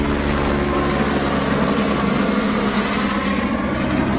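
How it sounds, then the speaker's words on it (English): A Homeland Security helicopter circling low overhead produces a steady, loud rotor and engine drone with a throbbing low pulse, constant and close for the whole stretch. "That Homeland Security helicopter is circling really low over us"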